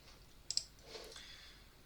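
A computer mouse gives a quick pair of crisp left clicks while a first-person shooter game is being built, close and quiet against a soft background hiss.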